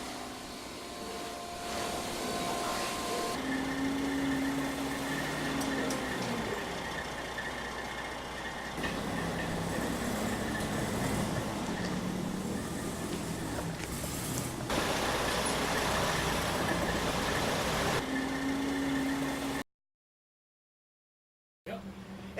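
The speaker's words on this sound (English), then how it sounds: "Gem Seal is here filling this tank up right now" A Gem Seal tank truck pumps sealer into a 6,000-gallon storage tank, its engine and pump droning steadily and fairly loudly with brief tonal whines, until a sudden drop to silence near the end.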